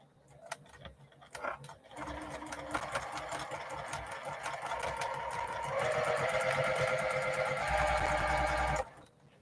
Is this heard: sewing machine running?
yes